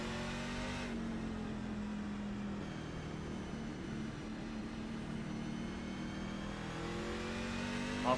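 Race truck engine in the iRacing RevLine Truck Series, heard from the cockpit during a qualifying run: a loud, steady buzzing drone held at high revs throughout, with the pitch shifting slightly as the truck accelerates.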